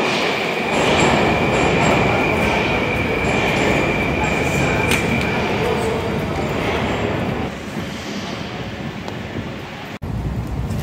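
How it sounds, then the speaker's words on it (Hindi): Metro trains rumble through Belaruskaya station in Moscow, a loud continuous roar of rolling wheels with a high steady squeal and rail clatter that eases slightly toward the end. "we are at the बेलारूसकाया metro station"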